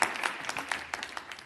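Round of applause from attendees at a Washoe County Board of County Commissioners meeting, a burst of scattered hand claps of moderate loudness, brief, with no talking.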